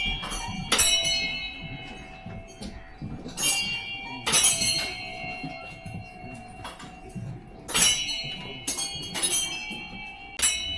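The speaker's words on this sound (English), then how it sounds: "So when you spin it in the clockwise direction, the stick is hitting the bell, and that is what is creating these sounds." Bhutanese prayer wheels spun clockwise so an attached stick strikes a bell: sharp metallic dings ring out at uneven intervals, about eight strikes, each with a bright ringing decay, fairly close and clear.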